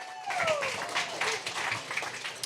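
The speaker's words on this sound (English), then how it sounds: "First clap it up for Jamil." Audience applause at a real estate market Q&A event, a brief burst of scattered clapping mixed with some voices, moderately loud and fading within a couple of seconds.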